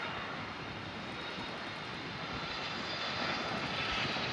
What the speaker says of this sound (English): we will be seeing Air Transat flight number 641 departing to Montreal on an A321 LR